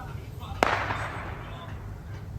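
A single sharp firework bang cracks out in a forest, followed by a brief crackling, echoing tail that fades into a steady low background rumble.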